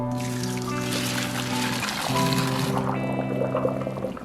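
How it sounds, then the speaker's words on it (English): A pot of cooked pasta for a stir fry is drained at the sink: a steady, loud rush of pouring water that thins to a lighter trickle toward the end. "then we'll drain it over at the sink"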